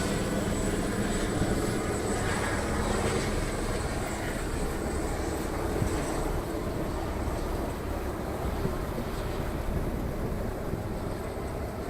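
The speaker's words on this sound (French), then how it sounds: "Un hélicoptère nous survole." Helicopter passing overhead at night on the Loire estuary, a constant low rumbling drone that stays steady and fairly loud under broad background noise.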